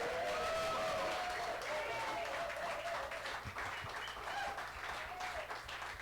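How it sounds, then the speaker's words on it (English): Steady audience applause fills a room for head coach Coach Joe at a Texas Day event, a dense continuous patter of many hands that holds loud for several seconds with faint crowd murmur beneath. "Let's give a big round of applause to our head coach,"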